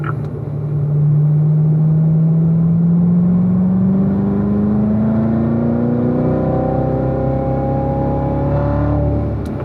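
A car accelerating hard on a racetrack, a loud close engine drone climbing smoothly in pitch for several seconds with rising harmonics, steady and alone without talk.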